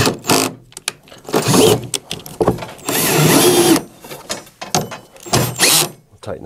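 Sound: power drill tightening bolts on Phoenix DryMAX XL

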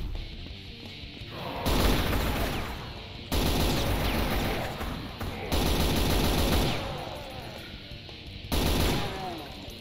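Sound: rifle gunfire in video game Brutal Doom

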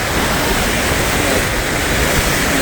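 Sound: roaring water at Niagara Falls

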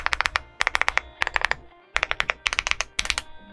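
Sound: typing on a Leobog Hi75 mechanical keyboard

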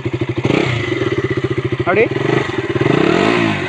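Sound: KTM Duke 200 motorcycle exhaust note

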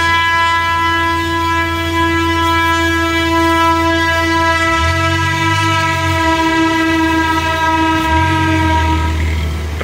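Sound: train passing a railway crossing

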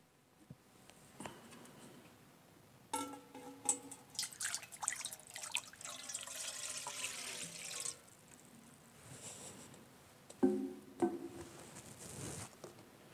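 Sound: water running from a tap while washing hands

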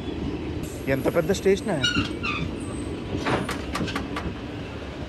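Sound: Satavahana Superfast Express train stopping at Dornakal Junction

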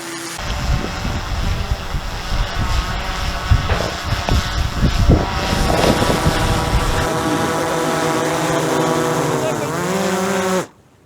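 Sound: Anubis drone flying overhead

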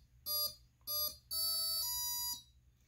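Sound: servo tester beeping during boot-up sequence

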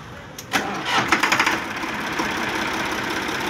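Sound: tractor engine starting

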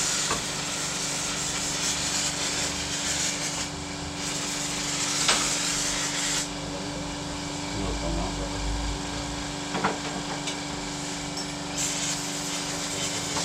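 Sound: brake cleaner spray on scooter variator parts

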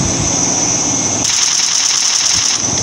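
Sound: gunfire in video game Free Fire

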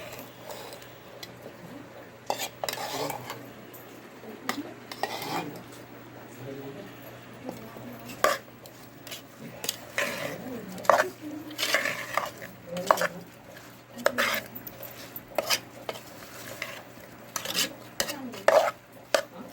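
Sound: stirring raw mango pickle with mustard-asafoetida oil

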